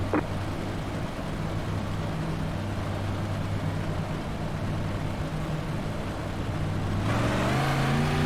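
Big block modified race cars on dirt at Eldora Speedway in iRacing rumble in a dense engine drone, then surge with a rising roar of acceleration near the end.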